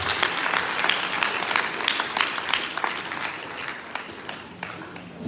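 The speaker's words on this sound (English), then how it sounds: "Can we give him a round of applause" An audience claps at an academic inaugural lecture, a dense, sustained round of applause that stays loud and even for several seconds and fills the hall.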